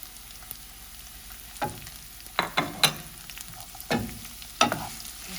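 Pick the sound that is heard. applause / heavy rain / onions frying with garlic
onions frying with garlic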